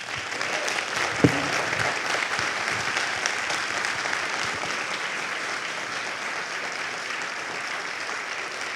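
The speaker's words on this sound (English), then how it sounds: "please join me in a round of applause for them" An audience claps for a panel at a community talk on addiction, a broad even wash of applause with one sharper clap near the start, sustained at moderate distance.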